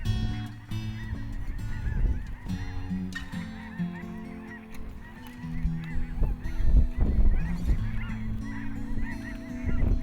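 Snow geese honk and yelp in a dense, overlapping flock chorus above a spread of decoys during the Central Flyway migration near Devil's Lake, calling loud and close throughout with no talking.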